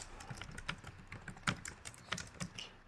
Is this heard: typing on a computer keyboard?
yes